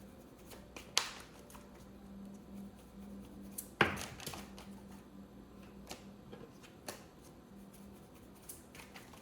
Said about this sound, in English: I have to shuffle for a while before the specific card that they want to come out and talk about is able to come out